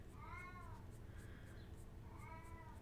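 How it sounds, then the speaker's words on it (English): A domestic cat meows insistently indoors, two drawn-out, whiny calls separated by a short pause, moderately close over a low steady background hum. "Needy kitty."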